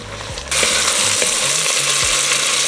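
Beef short ribs sizzling in a hot pot for French onion soup, a loud, dense frying hiss that bursts in suddenly and holds steady, with faint scraping and clicks beneath.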